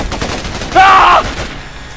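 Enemy gunfire in the Xbox 360 video game Raven Squad, a short loud burst of shots rattling out close by over a low battle background, no voices in the moment.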